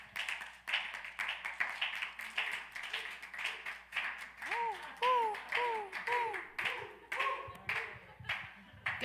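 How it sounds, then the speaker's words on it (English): An audience at a community event clapping for a speaker, with fast, steady claps throughout and voices calling out and whooping over the applause. "Clap it up for Dominique"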